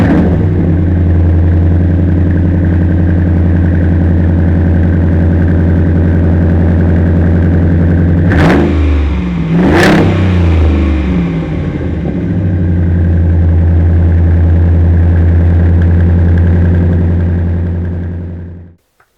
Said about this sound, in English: I've got to let you guys hear the exhaust